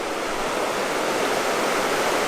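A spring-fed creek in the Missouri Ozarks rushes steadily over rocks, a loud, close, unbroken wash of flowing water with no voices.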